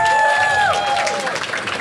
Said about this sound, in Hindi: ताली बजाओ सब लोग।